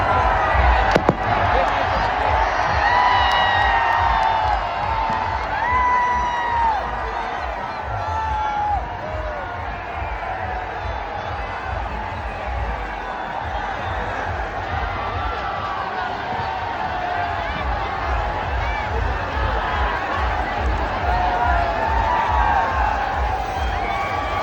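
A dense crowd at the Khanderay yatra in Ojhar roars and cheers as a single horse hauls twelve carts, a loud, continuous wash of shouting voices with scattered thumps underneath.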